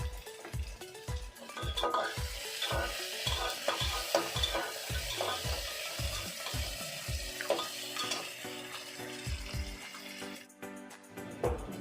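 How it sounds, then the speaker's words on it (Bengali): Sliced onion fries in a pot for a mutton curry, with a spatula scraping and stirring in a steady rhythm of strokes over a constant close sizzle, ending with a brief quieter pause. "পেঁয়াজটা ভাজা ভাজা হয়ে গেছে"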